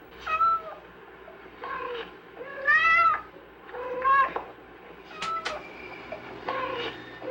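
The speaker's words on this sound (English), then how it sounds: "She's found that cats produce about 15 basic calls" Cats give a series of distinct calls, several clear meows of varied pitch and length spaced across the stretch, with some brief rising and falling cries, fairly close over a faint background hiss.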